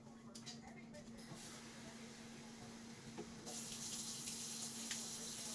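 Tap water running into a pot for cooking rice: a steady rushing hiss under a low hum that swells louder partway through as the flow strengthens.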